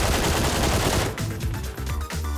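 Rapid gunfire from the battle royale game PUBG, dense continuous shots for the first second, then a series of separated bursts and single cracks, loud and close with no voices over it.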